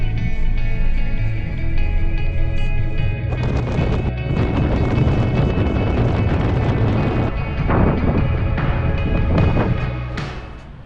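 Strong fresh breeze on the island of Sylt buffets the microphone in a continuous loud roar with rumbling gusts, swelling and dipping throughout with no talking.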